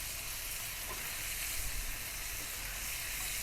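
Onions sizzle in a cast iron skillet on a Kamado Joe grill, a steady dense hiss of frying with faint stirring movement, close and even, with no talking.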